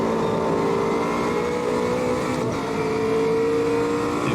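Porsche race car engine in Automobilista 2 on the Nordschleife, a loud sustained high-revving drone held steady at full throttle with a slight dip midway, no voices.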